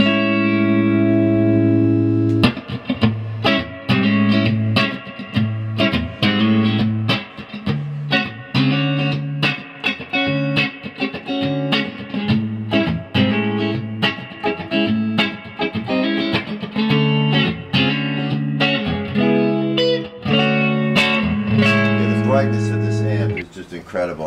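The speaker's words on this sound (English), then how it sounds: "we're going to get some jazz tones out of an Epiphone Sheraton 2" Epiphone Sheraton II hollow-body guitar played through a Dr. Z Z-Lux combo amp, sounding warm jazz chords and single-note lines in a steady, close, loud run that continues without pause from start to finish.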